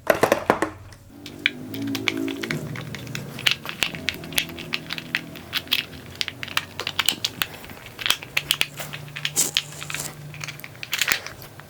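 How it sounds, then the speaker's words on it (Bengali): Screws are driven by hand into an electrical wiring board for a series circuit, giving close, crunchy creaks and small taps in irregular bursts with quiet gaps and a low hum underneath. "আমাদের এখন এভাবে স্ক্রু মেরে দিতে হবে।"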